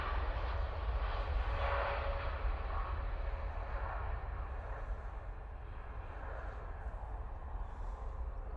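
Airliner taking off from Manchester Airport bound for Gran Canaria, heard as a steady, distant jet roar that holds at an even level throughout with no voices over it.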